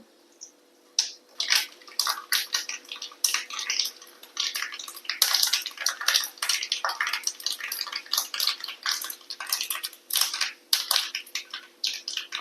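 Mustard seeds and dried red chillies frying in coconut oil in a clay pot, a burst of loud, close sputtering and popping that comes in rapid irregular crackles over several seconds.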